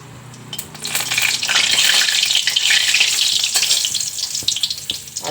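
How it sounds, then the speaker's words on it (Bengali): Whole dried red chillies hit hot oil in a wok with a loud, steady sizzle that swells quickly and holds, then crackles unevenly as it settles. "কড়াইতে তেল দিয়েছি, এখন দিয়ে দেব গোটা শুকনো লঙ্কা"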